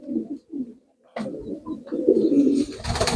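Pigeons coo in a village dovecote on a rainy day, several soft low calls close by in short bursts with brief pauses, followed by a rustling noise near the end.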